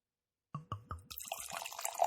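Russian River sour beer, a 4.5-year-old Consecration, poured from a bottle with a rolled lip: a few quick glugging splashes, then a steady close fizzing, bubbly pour into a glass.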